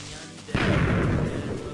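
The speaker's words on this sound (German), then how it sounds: "wieso explodieren die immer dann, wenn ich es am wenigsten erwarte?" A sudden loud blast in Minecraft hits and swells into a sustained, rumbling roar that stays heavy until the end.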